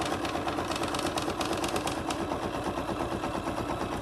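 A home embroidery machine runs an in-the-hoop satin stitch around an eraser shape on a school banner, giving a fast, steady mechanical rattle of rapid needle strokes that stays loud and even throughout, with no talking.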